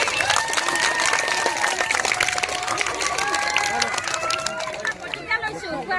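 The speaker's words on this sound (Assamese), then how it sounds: "দিয়া এটা হাত চাপৰি দিয়া" An audience claps hands together at a school-style talk: a dense, steady round of many hands clapping close by, with chatter and voices mixed in throughout.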